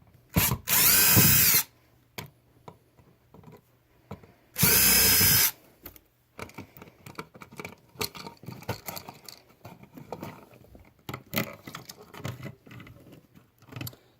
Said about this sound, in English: I typically get a screw gun to remove those because it's quicker.